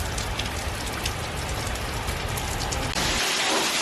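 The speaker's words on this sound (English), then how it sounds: "We have been blessed with a beautiful little summer rainstorm." A summer rainstorm patters steadily on surfaces on a homestead, a dense close wash of raindrops that swells louder near the end, with no voices.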